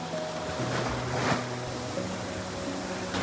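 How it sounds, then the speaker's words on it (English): Ocean waves wash onto a Koh Samui beach in Thailand as wind blows across the shore, a continuous broad rush of surf and gusts that swells slightly midway, with no talking. "the sound of the ocean, the wind, everything is just beautiful"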